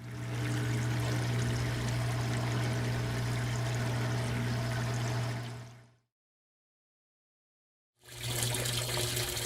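Maytag top-load washing machine filling with water, a steady loud gush and rush of incoming water with a low hum, running continuously, cutting out briefly, then resuming.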